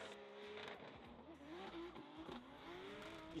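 A race car engine drones and revs under load with rising and falling pitch and tire noise, heard at some distance and fairly faint throughout.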